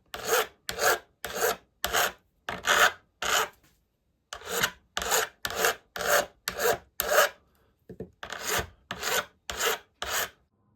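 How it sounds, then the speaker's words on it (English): A hand file rasps across the end of a brass rubbing strake for a boat, shaping it to a curve. There are about twenty close, crisp strokes in an even rhythm, grouped into runs with short pauses between them. "Once I'd filed each end to a nice curved profile, I rounded off the top surface."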